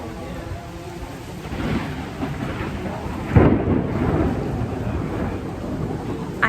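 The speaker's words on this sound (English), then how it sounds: "there's the thunder crack." Steady rain falls during a rainstorm at a water park. Low rumbling swells through it, and midway a close, sharp crack of thunder breaks out before rolling off beneath the rain.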